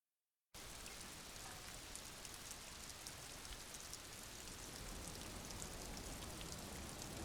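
Steady rain falls in the video game Disco Elysium, a dense, even hiss that starts abruptly after a brief silence and continues unbroken and fairly close, with no voices.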